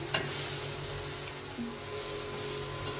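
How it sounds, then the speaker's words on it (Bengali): Onion and cabbage fry steadily in a pan, a continuous soft sizzle with a brief utensil clink near the start, heard alone with no talking. "বন্ধুরা এখন পেঁয়াজ আর বাঁধাকপি ভাজা হচ্ছে"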